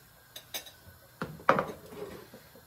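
Dishes are taken out and handled at home: a few light clinks, then a louder clatter of pots and plates that fades away.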